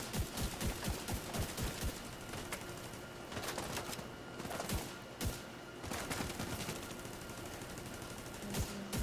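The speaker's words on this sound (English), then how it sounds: "See, they're still shooting at me though, aren't they?" Enemy gunfire in The Division 2 rattles in rapid bursts and scattered single shots, loud and close at first, then thinning out before picking up again near the end.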